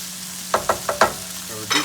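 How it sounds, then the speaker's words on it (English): Lasagna meat sauce cooks down in a pan, giving a close, low sizzle broken by four quick scraping stirs of a utensil and a final scrape. "we let that simmer, actually a little more than simmer, until the bottom of the pan is pretty dry down there"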